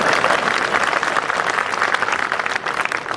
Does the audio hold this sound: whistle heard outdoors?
no